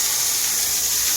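Water gushing forcefully from a pipe fed by a pressure motor during bathroom plumbing work, a steady loud hissing rush close by with no break.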